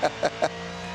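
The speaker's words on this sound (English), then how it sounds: "Just compare the engine note of this to a few minutes ago Verstappen's V8 Mercedes" A Ford Mustang race car during qualifying for the ADAC 24h Nürburgring gives three quick, sharp engine blips followed by a steady, loud engine drone.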